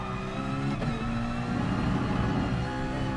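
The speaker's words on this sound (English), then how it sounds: "The Citroen race car it does actually feel really quick." Citroen race car engine in Gran Turismo Sport, revving steadily at high pitch with a brief gear-change dip early on, a continuous loud drone with no talking.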